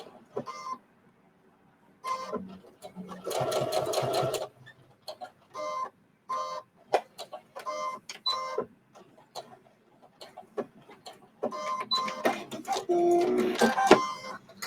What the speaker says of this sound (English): I could see my needle fell back off the fabric, so I'm going to lock again